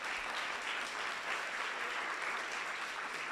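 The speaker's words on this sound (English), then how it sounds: "Everybody give a round of applause to Dan." An audience claps and applauds continuously at a talk event, a dense, even wash of hand claps lasting throughout, moderately distant and without speech.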